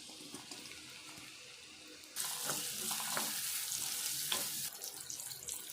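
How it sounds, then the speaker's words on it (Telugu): Onions dropped into a kadai of hot oil for an okra gravy; after a quiet start, a sudden broad sizzling hiss bursts in and continues softly, with faint stirring. "ఉల్లిపాయ మంచిగా ఫ్రై కావాలి"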